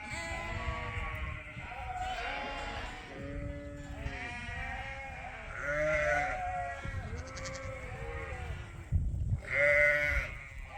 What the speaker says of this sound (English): These are the February lambs.